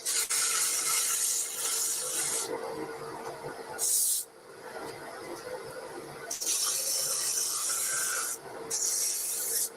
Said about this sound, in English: and do a little sanding now.